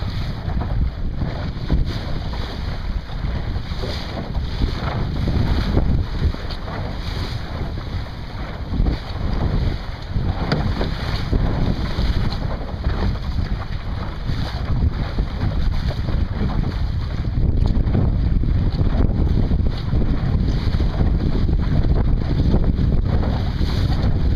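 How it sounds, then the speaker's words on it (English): An M15 sailboat heeled over in strong wind, with heavy gusts buffeting the microphone and water rushing and slapping along the hull in a loud, continuous roar. "Got some pretty nice winds today."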